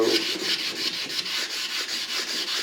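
A knife blade being hand sanded with sandpaper toward a mirror finish, in steady rhythmic back-and-forth scratching strokes, roughly four per second, close up and even in loudness, with no talk.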